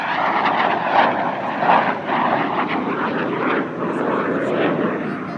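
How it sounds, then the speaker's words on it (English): A jet trainer with straight wings flies a sustained 360-degree turn at the Dubai Airshow, its engine a steady broadband roar with gentle swells in loudness, heard from a distance without speech. "A 360-degree turn here, demonstrating about 20 degrees per second sustained turn rate."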